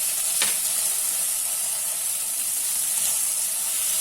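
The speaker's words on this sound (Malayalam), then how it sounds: "മഞ്ഞപ്പൊടി ഉപ്പിട്ട വഴുതനങ്ങ നന്നായിട്ട് വഴറ്റണം" Brinjal sautéing in a pan with turmeric and salt for a coconut-free curry, a constant bright sizzle and hiss up close, with one sharp clink near the start and no talking.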